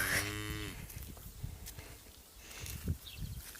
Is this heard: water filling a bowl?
no